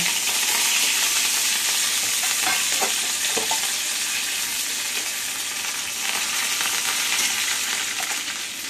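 Curry leaves fry in hot oil for a brinjal (eggplant) chutney, giving a steady, bright sizzle with a few clicks from stirring, close and continuous throughout.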